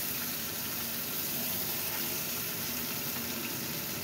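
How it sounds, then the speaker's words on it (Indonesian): Red fish fries in hot oil, giving a steady, dense sizzle and crackle that holds at an even loudness throughout without pauses. "Lalu kita goreng ikannya pelan-pelan."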